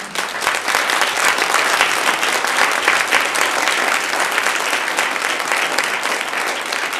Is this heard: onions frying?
no